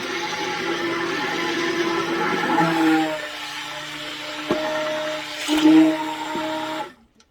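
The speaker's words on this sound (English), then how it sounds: "I'm going to stick blend this until it forms a trace where I can see the mark of the stick blender come out of it." A stick blender mixing hot process soap, a continuous whirring motor hum with a few sharp knocks and a brief louder surge before it cuts off abruptly near the end.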